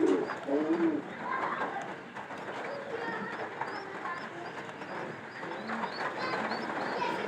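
Pigeons coo steadily inside a coop where adults sit with their chicks, a low continuous cooing close by with soft rustling and a faint rumble in the background; no one speaks.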